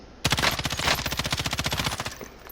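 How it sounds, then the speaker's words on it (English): Sustained automatic gunfire from Call of Duty Warzone, a rapid, evenly spaced burst of loud shots rattling on for about two seconds before tapering off, with no voices over it. "Bad shooting."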